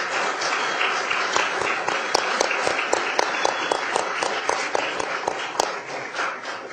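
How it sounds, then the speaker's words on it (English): Applause from a city council meeting audience, steady, close and continuous for the whole stretch, with distinct individual claps standing out from the dense crowd clapping. "Give them all one more round of applause."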